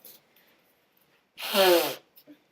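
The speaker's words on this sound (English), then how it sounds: "Sorry, I had to blow my nose." A single loud, wet nasal blast lasting about half a second, close up, with faint breaths around it.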